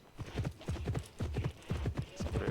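Horse hooves clip-clop in a quick, even trot in the video game Pippa Funnell Ranch Rescue, with close, crisp rhythmic footfalls in short bursts and no talking.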